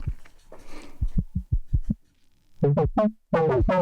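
A WMD C4RBN synthesizer plays a quick, plucky generated sequence with short percussive hits, then a pause, followed by brighter, sustained tones; no talking.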